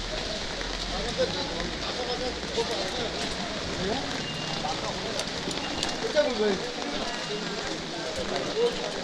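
Heavy rain pours across a Sunday village market, a dense outdoor hiss, loud and close, as a person talks over it.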